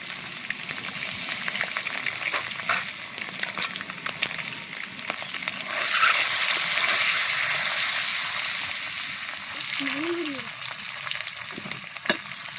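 An egg frying in hot oil, sprinkled with turmeric powder and a little salt, for a Bengali egg khichuri: a dense, continuous close sizzle that swells louder midway, with occasional stirring scrapes.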